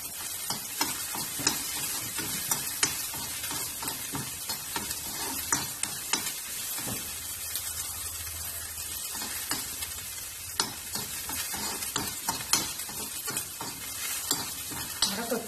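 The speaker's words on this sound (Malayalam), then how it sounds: "കുറച്ച് വെളുത്തുള്ളി ഞാനിവിടെ എടുത്ത് വെച്ചിട്ടുണ്ട് അതുകൂടി ഞാൻ ഇതിലേക്ക് ഇട്ട് കൊടുക്കുകയാണ് അപ്പോൾ നമുക്കിതൊന്ന് വറുത്തെടുക്കാം" Shallots and garlic stir-frying in a hot pan, with a steady sizzle throughout and repeated sharp scrapes and clicks of a utensil stirring, close and fairly loud, with no talk over it.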